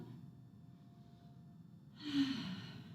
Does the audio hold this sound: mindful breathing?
yes